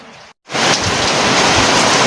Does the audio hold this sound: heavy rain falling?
yes